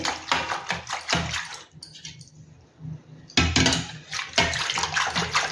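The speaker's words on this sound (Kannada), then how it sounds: "ಸ್ವಲ್ಪ ನೀರು ಹಾಕ್ಕೊಂಡು ಮಜ್ಜಿಗೆ ಮಾಡಿರಿ" Water splashes and pours into a vessel of ragi buttermilk in a home kitchen, in two loud bursts around a quieter pause with faint clinks of utensils.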